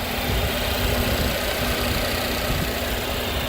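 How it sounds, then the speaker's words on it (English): A 2016 Volvo XC60 T6 Drive-E engine idles after a cold start. It gives a steady, even, close mechanical hum with no irregular knocks or changes in pace. "you can see the engine running quite happily off of a cold start, no strange noises"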